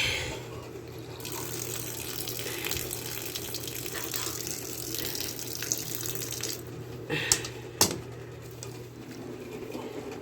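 A kitchen tap runs steadily into a sink, a continuous close hiss of flowing water with a couple of sharp clinks near the end and no voices.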